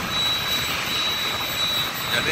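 Airplane taking off at Halim Perdana Kusuma airport, a steady loud jet roar heard from a distance, continuous and unchanging with a faint high whine.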